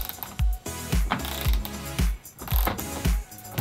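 A hand ratchet works loose 13mm bolts under the roof rack cover of a fifth-generation Toyota 4Runner, giving loud, close bursts of rapid clicking in repeated strokes with short pauses between them.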